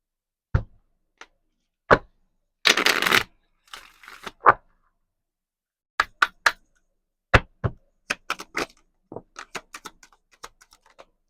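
Oracle cards being shuffled and handled, with scattered soft slaps and taps, a brief riffling burst, then a run of quick flicks in a quiet room.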